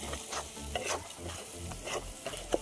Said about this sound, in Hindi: मस्त भुनाएंगे, अदरक लहसुन की पेस्ट डाल दे।